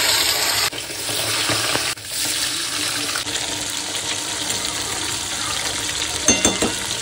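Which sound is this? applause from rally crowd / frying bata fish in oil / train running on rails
frying bata fish in oil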